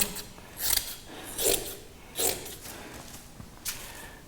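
Scissors snip through stiff fiberglass cloth in four or five separate crisp cuts, close up and unhurried, with quiet pauses between.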